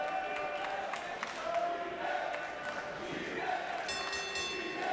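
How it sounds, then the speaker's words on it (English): A large wrestling crowd at a Glory Pro Wrestling show chants for Bryan Keith, a dense, steady roar of many voices with rhythmic chanting that carries on throughout. "there's a huge contingency of the crowd here chanting BK"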